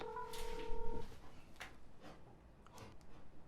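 Touch-tone telephone dialing tones for a call: a quick run of steady paired beeps in the first second, followed by soft rustling and faint handling noise with no talk.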